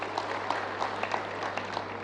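An audience applauding at the Ghana Club 100 Awards ceremony: steady, dense clapping from a crowd throughout, with a low constant hum underneath and no one speaking.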